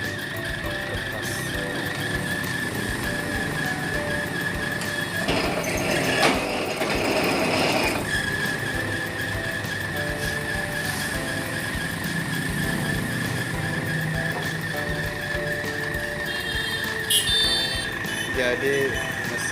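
Paper cutting machine in a print shop slicing paper, a steady mechanical hum with clunks and a louder burst of cutting in the middle, while a person talks over it throughout.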